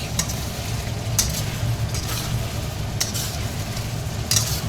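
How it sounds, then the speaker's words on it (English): Chicken wings in oyster sauce stirred continuously in a hot pan, with a constant sizzle and a few sharp spatula scrapes at regular intervals, close and fairly loud. "I really need to stir it continuously so that it doesn't stick"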